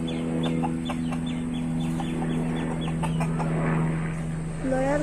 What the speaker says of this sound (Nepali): यहाँ छन् कुखुराहरू।